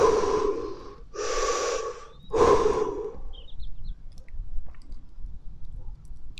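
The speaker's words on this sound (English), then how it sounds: "Can you breathe deeply for me?" Three deep, loud breaths, each drawn in and pushed out with a rough airy rush at a steady pace, close up. Faint clicks and a low hum follow.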